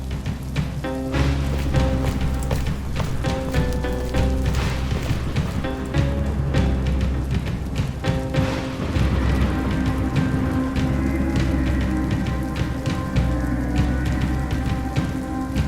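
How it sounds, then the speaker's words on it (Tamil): Steady rain falling outside at night, a dense continuous patter of drops on surfaces with low rumbling underneath, sustained and fairly loud throughout. "ஏன்னா வெளியே இருட்டாயிடுச்சு, மழையும் பெஞ்சிட்டு இருக்கு"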